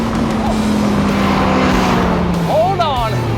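A Dodge Viper's engine roars loudly through a quarter-mile drag run, its pitch sliding as it pulls, with excited shouting over the top.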